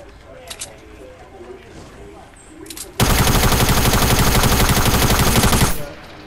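Sustained automatic gunfire in a multiplayer shooter game, a dense loud burst of rapid shots lasting about three seconds after quieter background sounds, with people talking over it.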